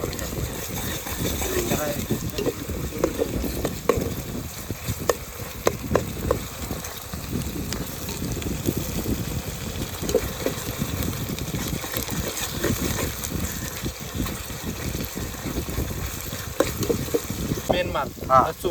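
Onion sizzling in hot oil as ginger-garlic paste goes in for a Champaran-style achari mutton at an outdoor farm feast, with a steady crackling fry and occasional scraping stirs throughout, under faint background talk.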